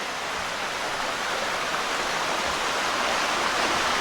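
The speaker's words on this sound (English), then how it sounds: "it's a beautiful, clean, like uncluttered waterfall" Lower Indian Ladder Falls on Hornbecks Creek pours in a constant, dense hiss of falling water, steady and fairly loud from nearby with no other sounds.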